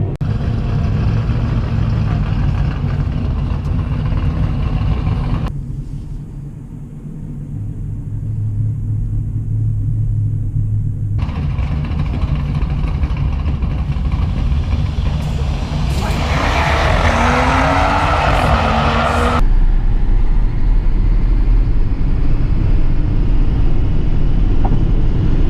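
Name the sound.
BMW 3 Series racing Tesla Model X at drag strip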